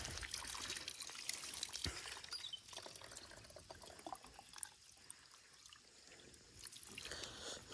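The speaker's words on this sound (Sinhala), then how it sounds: "වතුර ටිකක් ගත්තා මෙතනින් මේ වැස්ස නිසා මේ දවස්වල වතුර එනවා." Spring water trickles and pours steadily from a rain-fed source on a hillside hiking trail, a continuous close splashing with small drips and no voices.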